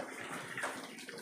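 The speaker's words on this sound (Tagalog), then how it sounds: "Grabe putok ng tubig." Water gushes and splashes from a pig water drinker in a piggery, a short, fairly quiet burst of rushing, gurgling flow with no voices.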